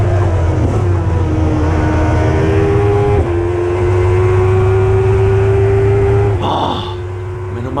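A race car engine in a racing video game holds a loud, steady high drone whose pitch climbs in stages through gear shifts, then briefly drops and swells near the end, with no talk over it.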